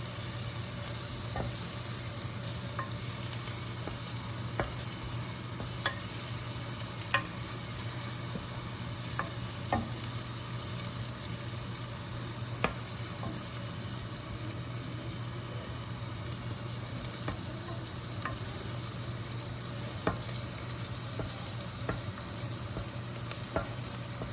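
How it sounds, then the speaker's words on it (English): Shallots, with garlic, sizzle steadily in a hot pan for Thai pad kra pao, a constant frying hiss broken by scattered soft clicks and scrapes of stirring, with no voices. "See the shallot cooking away."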